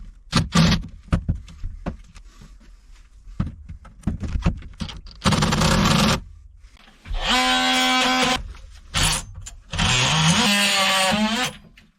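Hose clamps are cut off the stuffing box of a 1962 wooden ketch with a power tool, several sustained whining, buzzing cuts separated by sharp clanks, taps and handling noises, close up with no talk.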